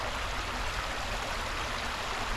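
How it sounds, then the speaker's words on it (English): Continuous rushing of a creek running high, a steady broadband wash with no breaks, close by and moderately loud. "Creek is running high today"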